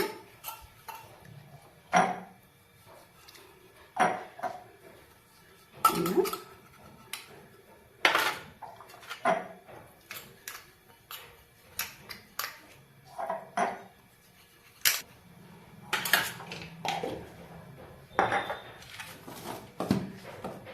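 Bowls and utensils clink and knock while rice flour dough is spooned in for steamed tal bhapa pitha, scattered light taps and scrapes at close range with quiet pauses between.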